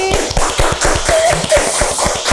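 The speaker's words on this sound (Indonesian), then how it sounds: "Tepuk tangan untuk Aryan hari ini." Audience applause at a regional gathering, a loud nearby round of clapping with distinct rhythmic hand claps ringing out steadily for a couple of seconds.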